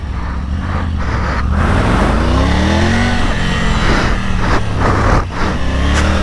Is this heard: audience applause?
no